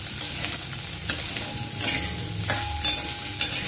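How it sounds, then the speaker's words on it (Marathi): Chopped onion fries in a pan for butter paneer masala, hissing and sizzling steadily while a utensil stirs and scrapes against the metal in several distinct strokes, close up with no talk. "कांदा थोडासा परतून घ्यायचा।"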